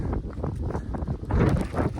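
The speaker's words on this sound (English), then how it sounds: "Windy and snowy," Strong gusting wind roars across the microphone during a snowy winter blizzard hike on Mount Washington, a loud continuous buffeting that rises in a heavier gust midway.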